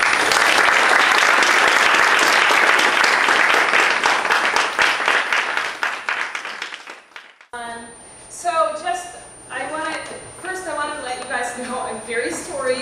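A lecture audience breaks into loud, dense applause to welcome a guest speaker, sustained for several seconds before fading out, after which a speaker begins talking alone.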